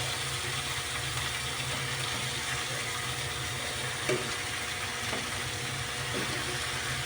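Pork steak pieces laid one by one into a hot pan, frying with a steady close sizzle and a few soft clinks, no talking.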